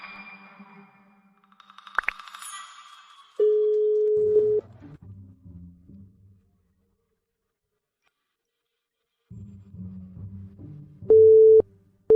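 An unanswered telephone call produces steady electronic tones on the line: a long tone, then a stretch of buzzing ring-back signal, a silent gap and more ringing, closing with a sharp beep.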